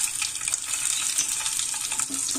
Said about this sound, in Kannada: ಈ ನೋಡಿ ಕಾದಿದೆ ಚಟಪಟ ಅಂದಿದೆ ಕಡಲೆಬೇಳೆ ಉದ್ದಿನಬೇಳೆ